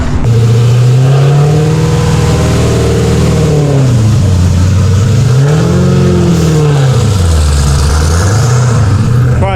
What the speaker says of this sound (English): Kevin Biscotti's car going out for practice